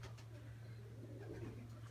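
Soft, low pigeon cooing murmurs faintly against a steady background hum, quiet and close.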